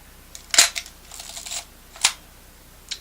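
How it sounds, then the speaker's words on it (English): Film advance lever being wound on a Nikon FM2 35mm SLR camera, giving a few separate close mechanical ratcheting clicks and strokes spread over a few seconds, with quiet pauses between them. "You want to wind it all the way until you get to the first frame"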